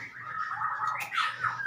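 Several female white-rumped shamas (murai batu) kept together chirp continuously at close range, a busy stream of high tweets and calls with no voices over them.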